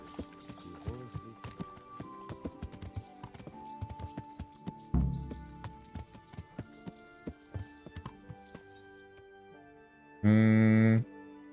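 Horse hooves clip-clop in a steady, fairly close rhythm in the video game Kingdom Come: Deliverance, alongside game music tones and a loud, sustained sung note near the end.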